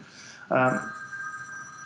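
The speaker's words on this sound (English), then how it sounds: "That would have to be my phone. I did put it on silent." A mobile phone rings in a lecture hall, a short burst of tonal ringing that cuts in abruptly and then lingers faintly while a lecturer speaks nearby.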